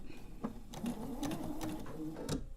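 A sewing machine stitches quilt pieces, a steady close mechanical whir broken by brief pauses and restarts, running on its own without talk.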